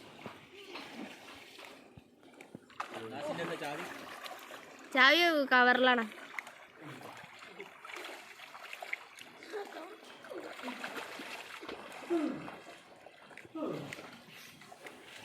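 Water splashing and sloshing as someone swims in a pond near a house, while several people talk and call out nearby.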